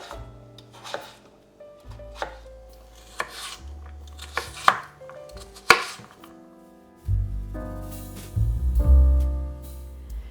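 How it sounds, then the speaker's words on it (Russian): Medium potatoes being cut into small cubes for soup on a cutting board, a series of sharp knife chops at an uneven pace, louder strikes in the middle, then a rougher scraping clatter toward the end, no talking. "Картошку для этого супа нарезаем мелкими кубиками."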